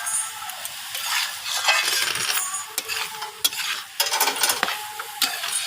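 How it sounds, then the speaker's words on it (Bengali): Spinach, bottle gourd greens and cabbage with peas are sautéed in a pan: soft sizzling under repeated scraping and stirring strokes of a spatula, with a few sharp clinks against the pan. "তো আবারও সব কিছু এইভাবে কষিয়ে নিচ্ছি।"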